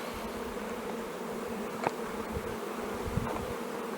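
Honey bees in an opened beehive hum as a dense, steady swarm drone, close and continuous, with a few individual bees buzzing past and no talk.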